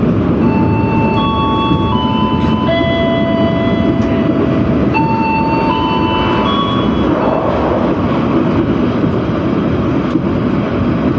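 An Indonesian Sancaka passenger train rumbles steadily along the rails, loud and continuous, with sustained metallic whining tones from the wheels rising and shifting over the noise.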